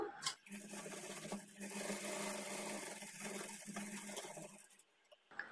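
A sewing machine stitches a dart on a plain blouse at a half-inch margin, running in a steady close whir for about five seconds, with a short pause near the start and stopping just before the end.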